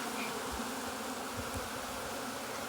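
Honeybees of Caucasian stock droning steadily inside a healthy nuc hive, a continuous close, even buzz with no other sounds.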